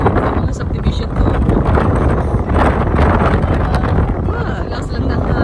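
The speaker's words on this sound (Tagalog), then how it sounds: "Lakas lang na hangin." Strong, steady wind near a lighthouse roars continuously across the microphone, a dense, loud rush with no breaks and no clear talk above it.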